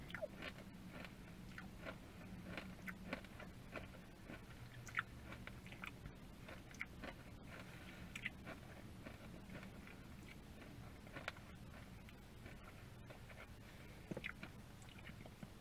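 Someone chewing Nerds Rope candy, the gummy rope with crunchy coating, heard faintly and close: soft continuous mastication with small crunches and clicks over a low background hum, no speech.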